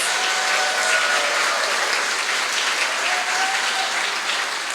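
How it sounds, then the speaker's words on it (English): Sustained, close applause from a crowd at an African American graduation ceremony for Peralta Colleges graduates, held in a Baptist church, thick and even throughout, with a few faint whistles riding above it. "let's give them another round of applause"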